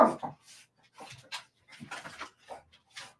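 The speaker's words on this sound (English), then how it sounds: "it's her friend Luna barking" Luna, a pet dog, gives a few short, quiet yips and whimpering barks in a home, spaced irregularly against a quiet background.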